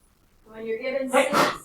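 One sharp human sneeze bursts out close to the microphone after a brief inhaled build-up, loud and abrupt, and speech follows right after it.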